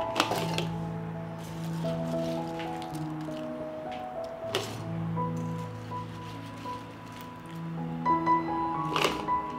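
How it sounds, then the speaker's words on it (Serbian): Chopped apples being lifted with a slotted spoon and dropped into glass jars, giving a few soft wet squishes and light clinks at irregular intervals, close by, over steady soft background music with no talking. "I ovako iseckane jabuke izvadit ću sa rupičastom kašikom"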